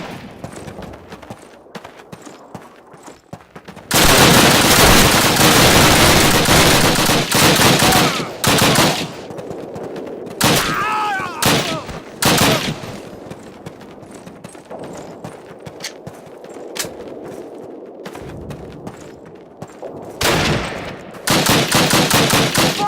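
Gunfire in the video game Call of Duty, loud sustained bursts of rapid automatic and rifle shots in a battle, with intermittent pauses and renewed volleys, dense and close.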